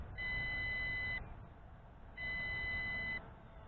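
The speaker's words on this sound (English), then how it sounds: "And now I'm getting a long beep." An MJX Bugs 5W 4K GPS quadcopter drone sounds its warning beep: two long, steady electronic tones, each about a second, with a short gap between them, clear over a low background hum.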